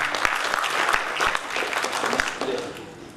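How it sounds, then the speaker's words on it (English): A crowd at a community gathering gives loud applause for a speaker, sharp close claps over a dense patter that thins toward the end, with some voices underneath. "please give a loud applause to this gentleman"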